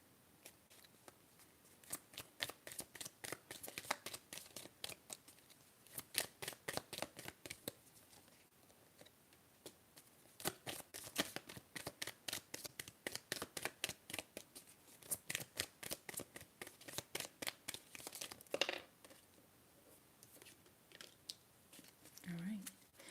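Tarot cards being shuffled and handled in a quiet ASMR setting, with long runs of rapid, crisp riffling flicks heard close and intimate, broken by brief pauses.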